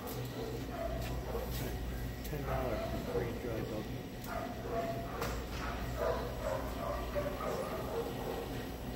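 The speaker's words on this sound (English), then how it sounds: "But hear the dogs barking." Several dogs at a doggy daycare bark and yip repeatedly at a distance over a steady background hum, with people talking faintly.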